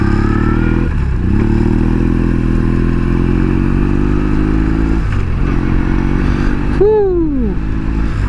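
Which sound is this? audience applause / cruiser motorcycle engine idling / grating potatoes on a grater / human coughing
cruiser motorcycle engine idling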